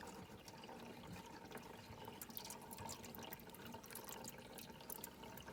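Water draining into the siphon of a Vaillant ecoTEC pro boiler during servicing, a quiet, continuous trickle with small drips and splashes, faint and steady.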